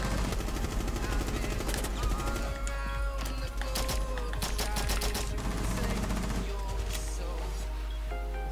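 Rapid gunfire in Rainbow Six Siege, bursts of sharp shots over a constant loud game soundscape with a deep steady hum underneath.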